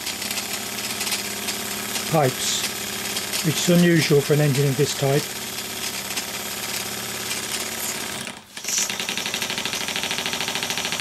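A Wilesco D48 toy steam engine with a reversing lever runs with a fast, steady mechanical chuffing and rattle, someone talking over it for much of the time.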